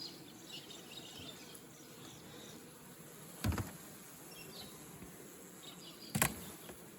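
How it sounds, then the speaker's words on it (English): Honeybees buzzing inside an opened winter beehive, a soft steady hum close by, with two brief louder bumps or handling noises. "it's pretty much a box of bees"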